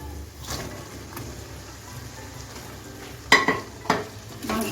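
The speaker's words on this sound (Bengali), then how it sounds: "এখন আমি ভেজে রাখা মাংসটা দিয়ে দিচ্ছি" Pieces of fried chicken go into a pan of cooked-down tomato masala and are stirred, soft sizzling beneath a few sharp clanks and scrapes of the spatula against the pan, close and moderately quiet.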